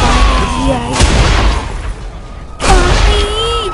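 Explosions in the video game Saints Row The Third make two heavy booming blasts about a second and a half apart over a constant rumble of game noise, loud and close.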